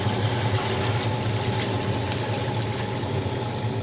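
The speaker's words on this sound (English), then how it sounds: "I'm going to put some cold water over it and bring it up to a simmer." Cold water runs in a steady, continuous stream into a pot holding a ham hock in a home kitchen, a constant close rushing splash.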